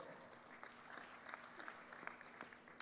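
Quiet, scattered applause from a small audience, light claps pattering steadily at a distance.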